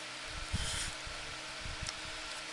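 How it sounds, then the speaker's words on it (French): A small electric fan runs in a hot room, giving a steady, even whooshing hiss throughout, with a few low handling bumps underneath. "Je suis désolée pour le bruit, c'est le ventilo"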